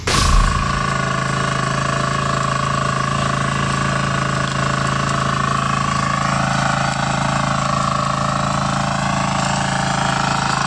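A 10 HP diesel power weeder engine runs close by in a loud, steady drone with a strong low rumble and even mechanical hum, starting with a brief burst and then holding a constant pace throughout.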